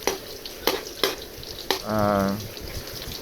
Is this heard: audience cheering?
no